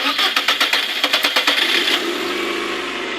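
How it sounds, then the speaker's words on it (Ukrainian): Rebuilt VAZ 2111 16-valve engine cranking with a rapid rhythmic starter chatter for about two seconds. It then catches and settles into a steady close idle. "Зараз запускати будемо двигатель."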